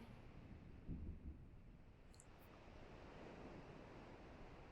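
Stormy sea in the Kingdom Hearts video game: steady roaring wind and crashing surf, with a brief low rumble early on.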